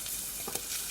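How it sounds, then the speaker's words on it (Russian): Potatoes sizzle and crackle in hot oil in a frying pan, a brief, quiet hiss with a few small pops. "Отправляем картошку на сковородку. Видите, все шкварчит."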